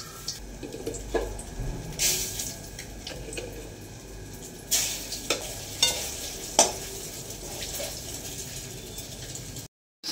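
An egg fries in hot oil with a continuous moderate sizzle, punctuated by several sharp spatter pops and scraping stirs, ending in a sudden brief silence; no talking.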